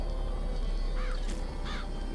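Crows cawing from the Murder of Crows vigor in Bioshock Infinite, two harsh caws about a second apart over a steady low game hum, with no voices.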